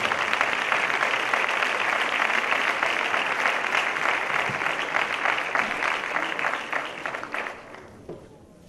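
A crowd at a sports awards gala applauds the women's padel champions, steady loud clapping that carries on for several seconds before thinning out and fading near the end.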